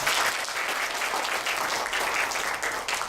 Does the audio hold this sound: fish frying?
no